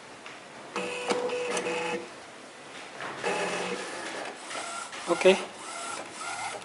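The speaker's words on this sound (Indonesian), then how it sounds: "Saya start nanti mulai dari bergerak printernya." A printer loaded with a 90 nozzle starts up and runs, giving mechanical whirring passes that come in bursts with pauses between, close by, and a person speaks briefly over it.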